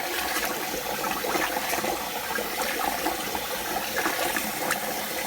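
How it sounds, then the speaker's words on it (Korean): Rice is rinsed with water in a pot, giving a continuous, fairly quiet sloshing and swishing of water with small splashes throughout. "물기를 머금어야 잘 씻어지기 때문에 한번 이렇게 헹궈 주십니다"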